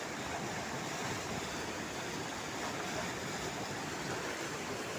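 Large floodwater rushing under a bridge, a dense, steady roar of churning water that fills the scene without pause, loud and continuous with no voices.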